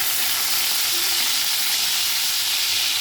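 Oil frying in a kadai, a steady bright sizzle and crackle throughout with no talk.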